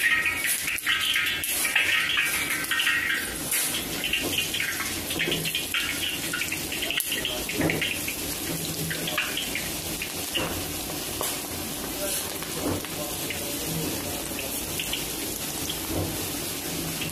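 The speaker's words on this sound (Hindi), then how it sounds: "तो हमारा घी गर्म हो गया है, पानी डाला देखा, ये चेक किया, ये हमारा घी गर्म हो गया। अब मैं इसमें पकौड़े ऐड करके आपको बता रहा हूँ।" Pakoras frying in hot ghee give a steady, dense sizzle and crackle that runs close and loud throughout, with faint clinks and stirring noises and no talking.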